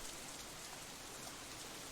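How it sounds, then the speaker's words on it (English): Steady rain falls in a video game scene, a dense, even hiss of drops with no pauses. It sounds continuous and fairly loud, and no voices come through. "The rain increases a little more, offended that we haven't fled yet."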